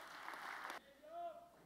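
Audience applause at the Bar to Bar 2010 awards show, a brief burst of clapping that cuts off sharply, followed by a voice speaking.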